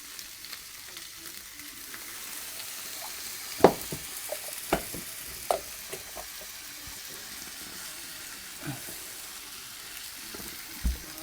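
Tuna, mushroom and cream sauce frying in a pan, with water poured in; a steady soft sizzle runs throughout, punctuated by a few sharp clicks and knocks of stirring utensils, close and moderately quiet, no talking.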